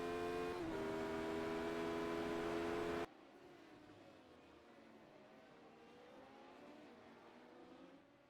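Radical race car engine in the iRacing game at Laguna Seca, a loud harmonic engine note held steady for about three seconds, then cutting to a quieter, lower wavering drone with faint shifting tones for the rest.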